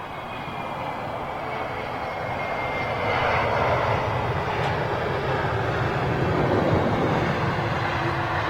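A China Southern airliner flies over near London Heathrow Airport, its broad jet engine roar swelling steadily and staying loud and continuous throughout, with no talk.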